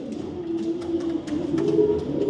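Racing pigeons coo in a low, steady murmur, close and continuous, with faint clicks and rustles scattered over the top.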